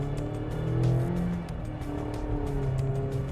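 A 2021 Mazda MX-5 Miata RF engine drones steadily and rises in pitch as the car is pushed hard into a corner, with faint tire noise under a continuous, close hum and no talk.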